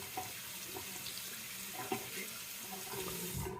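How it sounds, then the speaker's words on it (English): A Gillette Labs razor is rinsed under a running tap, water streaming steadily into the sink with a few brief knocks and splash changes as the razor passes through, close and continuous. "Now let me rinse the razor here."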